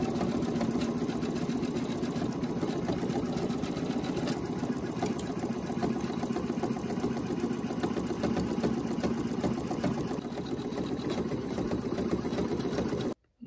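An NQ1700E embroidery machine stitches an in-the-hoop hip hugger bag with a loud, fast, steady mechanical chatter that continues evenly until it stops abruptly at the end.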